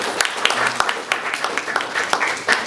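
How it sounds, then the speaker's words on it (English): Scattered, uneven clapping from an audience at the CAFA 2019 opening ceremony, a few sharp individual claps standing out over a thin, steady crowd murmur. "we should really give them a round of applause for that"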